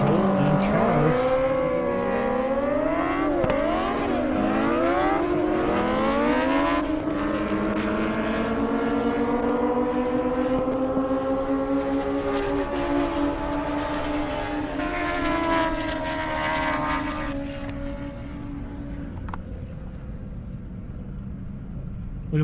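Drag racing motorcycles, a Kawasaki among them, run a half-mile airport strip, engines revving hard through rising and falling gear-change sweeps, loud and close at first, then fading into the distance.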